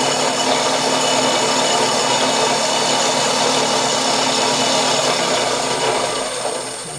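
A steady mechanical whine and hum from a pull gear speed reducer running at full speed, loud and continuous, tapering slightly at the end.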